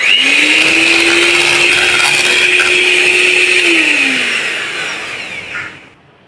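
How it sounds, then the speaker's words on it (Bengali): An electric hand beater whips cream in a bowl at low speed, a loud steady motor whine holding for about four seconds before winding down and cutting off. "হ্যান্ড বিটার কখনোই একসাথে অনেকক্ষণ চালানো ঠিক না"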